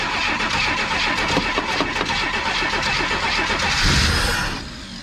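A 1950s Chevrolet engine cranks and catches, running loud and rough with steady chugging for several seconds before cutting off abruptly near the end; no talking.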